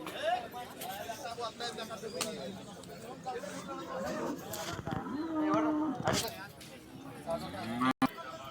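Cows low and moo amid a busy cattle market in Baramati, India, with people talking throughout and birds cooing in the background.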